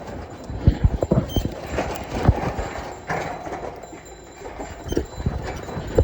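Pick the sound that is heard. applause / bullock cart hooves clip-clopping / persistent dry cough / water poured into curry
bullock cart hooves clip-clopping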